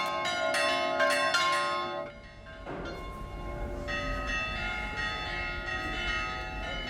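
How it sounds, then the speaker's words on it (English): Orthodox church bells toll in a Cypriot village, bright ringing strikes in quick succession at first, a short lull, then continued clanging with lingering resonance, loud and fairly close, with no voices. "The tolling of the bells calls the whole community together."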